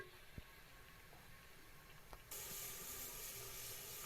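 Crushed garlic frying in a pan for a white bean curry, a steady hiss that jumps louder partway through and holds as a broad sizzle, with a couple of faint clinks early on.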